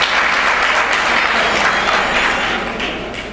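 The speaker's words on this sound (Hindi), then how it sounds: "उनका भी ज़ोरदार तालियों से इस्तकबाल है" An audience at a Pasmanda Muslim community workers' gathering claps loudly to welcome a speaker, a dense continuous roar of hands that holds steady then begins to fade toward the end.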